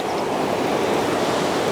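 Sea waves wash onto a beach, a steady, loud rushing surf with a wind-like hiss and no pauses, heard close without any voices.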